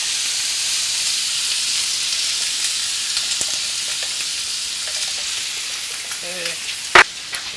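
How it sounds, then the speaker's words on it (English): Celery and a whole clove of garlic saute in a pan with a steady, even sizzle that runs throughout, with a few faint clicks and one short sharp knock near the end. "I'm just going to go ahead and let that saute"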